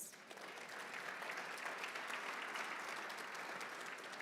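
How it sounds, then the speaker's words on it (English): Steady, full applause from a banquet crowd at a golf association awards dinner, many hands clapping continuously at an even, moderate level throughout without a break. "That deserves applause."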